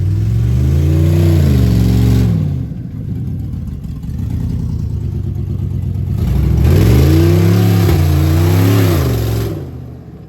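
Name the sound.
Lincoln Navigator engine revving, rocking to pull work truck out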